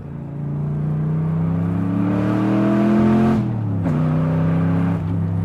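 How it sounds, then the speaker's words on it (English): A vintage 1966 Chevrolet Corvette C2 engine revs hard while driving, a loud, close, rising roar that climbs through the gears, drops off briefly and picks up again, with no voices over it. "Ripping on a vintage Corvette, and this thing handles like it's on rails"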